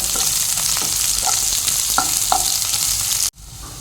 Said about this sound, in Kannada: ನೀರುಳ್ಳಿ ಸ್ವಲ್ಪ ಫ್ರೈ ಮಾಡುವ